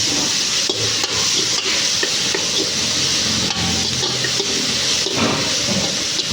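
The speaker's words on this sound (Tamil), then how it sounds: "பெரிய வெங்காயத்தையும் பச்சை மிளகாயும் போட்டுட்டு நல்லா சாட்டே பண்ணிக்கோங்க" Sliced onions and green chillies sautéing in a pan for a South Indian tuna fish curry, a loud, dense crackling sizzle with a few stirring scrapes, no voices.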